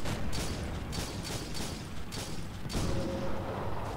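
In the Roblox tank game Tankery, a shell bounces off a tank turret amid a dense rumble of engine noise and repeated cannon fire, with several sharp bursts before a heavier blast near the end.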